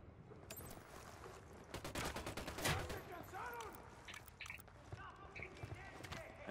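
Gunfire in the Ghost Recon Wildlands video game: a dense burst of rapid shots crackles through the middle of the scene, followed by scattered further reports, with muffled voices mixed faintly underneath.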